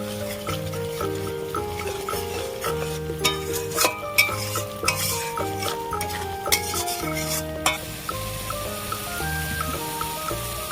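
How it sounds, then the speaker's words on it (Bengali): Spice paste being stirred and fried in a pan for a vegetarian Bengali dish, with a spoon scraping in steady repeated strokes over a soft sizzle and background music. "ভালো করে মশলাটা কষিয়ে নেবো একসাথে"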